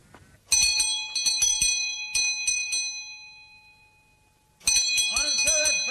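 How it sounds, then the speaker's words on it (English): A house bell rings in a radio drama, with several sharp rings in a quick cluster, a pause, then another insistent burst of ringing near the end. "Answer that bell, someone here."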